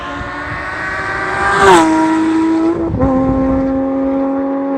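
A loud flat-six engine with its muffler removed, in a flood-damaged Porsche RS60 Spyder, revs up sharply, then settles into a throaty idle, dips again and holds a steady rumble, close and harsh-edged.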